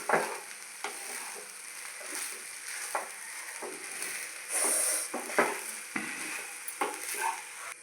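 Egg fried rice sizzles in a pan while a utensil stirs and scrapes it, steady frying hiss with repeated sharp scraping strokes, close up and without speech.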